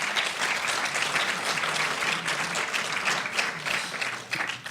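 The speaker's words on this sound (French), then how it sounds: "qui est ici, que je vous demande d'applaudir" Warm, dense audience applause at the Prix Jean Vigo 2018 film award ceremony, honoring author Marie Desplechin, continuous clapping from a large crowd at steady volume that begins to thin at the very end.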